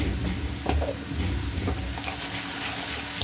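Spiced masala with turmeric and salt sautéing in a pan gives off a steady close sizzle, with scraping stirs of a spoon running through it.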